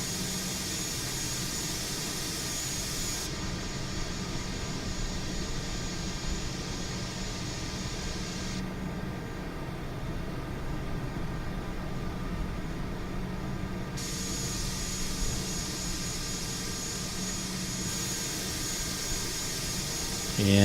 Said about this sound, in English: So now we're going to test the stock A320 Neo out of Flight Simulator.